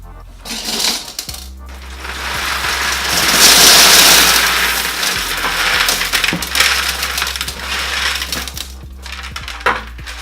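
Gravel substrate pours and clatters into a glass aquarium tank, a continuous rattling and crunching of small stones swelling and fading over several seconds, close and fairly loud.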